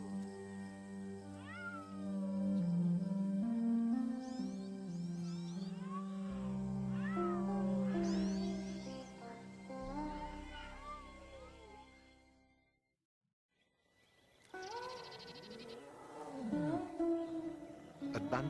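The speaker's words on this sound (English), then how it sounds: "a magnificent animal, the tiger, not welcome and in trouble" A Bengal tiger gives drawn-out, wavering moaning calls and growls, fairly loud and continuous, then falls silent briefly before another rough burst of vocalizing.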